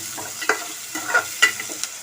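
Onions and green chillies frying in oil in a pan, a soft continuous sizzle with a few light stirring scrapes, fairly close and without talking.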